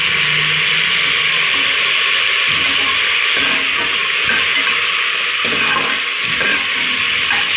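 Mint leaves drop into hot oil already frying cinnamon and cloves for a pressure-cooker mutton biryani, producing a loud, continuous sizzle with stirring and scraping of a spoon against the pan.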